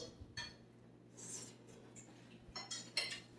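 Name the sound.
fork picking up haluski from plate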